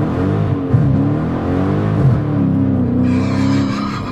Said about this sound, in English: instant eruption of those 305 tires, brapping from the exhaust